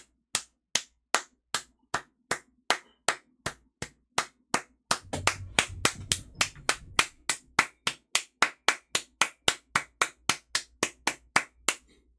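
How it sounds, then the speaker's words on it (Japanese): A single pair of hands claps steadily and sharply, about three claps per second for twelve seconds, close and alone, with a brief low rumble partway through. "拍手みんな"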